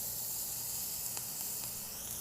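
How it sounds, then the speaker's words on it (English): A touch of butter sizzles in a hot pan in a cooking-show kitchen, a faint, steady, even hiss with no voices. "we're gonna add just a touch of butter as well. And it will burn and sizzle pretty quickly"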